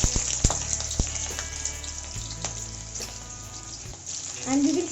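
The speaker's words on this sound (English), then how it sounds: "Now we will be adding the onions. So I will just add the onions into it." Onions dropped into caramelized sugar in a pan for Bengali-style aloo chicken, starting a loud, continuous frying sizzle with bursts of crackle and some stirring clatter close by.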